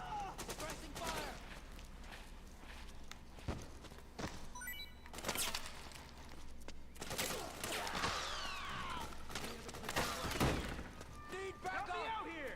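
Bursts of gunfire crackle through a stealth-action battle in Metal Gear Solid 4, with several sharp shots and rapid volleys spread irregularly across the stretch, mixed with voices talking.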